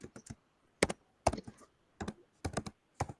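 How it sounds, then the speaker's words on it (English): Computer keyboard typing during an online meeting, short bursts of crisp key clicks in irregular clusters separated by brief silences, close and clear with no voices. "I hear you typing, Jillian."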